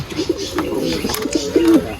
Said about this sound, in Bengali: দেশি কবুতরের মেলটা চলে এসেছে ডিমে তা দিচ্ছে